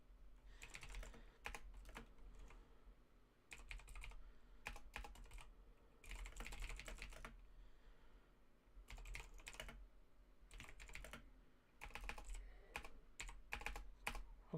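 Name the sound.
typing on a computer keyboard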